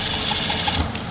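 A sewing machine stitches the lining of a kameez in a tailoring class, running as a steady, close, busy mechanical whir with a fast regular needle clatter throughout and no talking.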